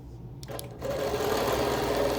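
A sewing machine free-motion quilting a large freehand flower in the background of an appliqué quilt starts up after a brief pause and settles into a steady, close, rapid stitching whir.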